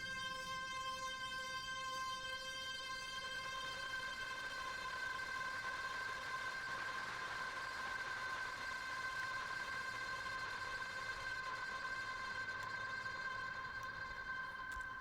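A PlayStation 3 synth played through a chorus pedal holds a sustained, swirling tone with layered shimmering overtones, alone and fairly quiet for the whole stretch.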